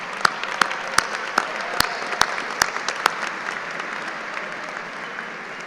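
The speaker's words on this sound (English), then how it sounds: "let's give another round of applause to all of our award winners" An audience applauds award winners at a college of engineering undergraduate celebration, a steady wash of clapping with a few sharp, close individual claps standing out near the start before it settles and thins.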